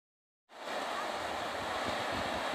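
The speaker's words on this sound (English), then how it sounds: "Last look at the ocean before I go home tomorrow." Ocean surf rolling in at Myrtle Beach by the boardwalk, a broad steady roar with wind that starts abruptly after a short silence and carries on without talk.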